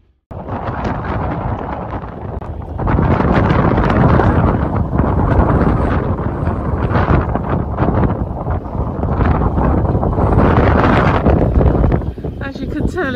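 Strong wind buffets the microphone at a marina beside an abandoned boat under restoration, a loud continuous roar with gusts swelling and easing throughout, and a person speaks over it.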